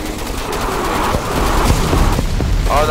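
Dense, continuous bombardment explosions and rapid gunfire fill a Roblox game battle, a steady loud barrage of overlapping blasts and shots with no letup.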